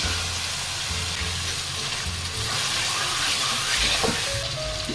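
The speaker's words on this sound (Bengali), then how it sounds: "এই সময় ম্যারিনেট করা চিকেনটা দিয়ে দেবো চিকেনের সঙ্গে মশলাটা কষিয়ে নিচ্ছি" Marinated chicken frying with spices in hot oil for a traditional chicken curry gives a steady, loud sizzle and hiss that runs without a break, close up, with no talking.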